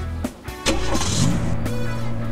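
A cartoon car in a kids' driving game starts its engine and revs up, a short mechanical crank followed by a steady, close engine hum.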